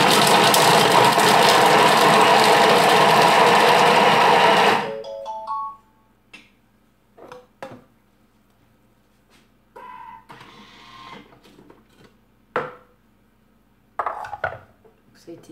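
A kitchen mixer blends carrots into a chili sauce base, a loud dense whirring roar for about five seconds that cuts off abruptly, followed by scattered clinks and knocks of utensils and bowls in quiet.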